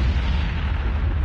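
A nuclear killstreak detonation in the shooter game COD Mobile, a loud, sustained low rumbling roar that fills the whole moment with dense, steady bass, no voices.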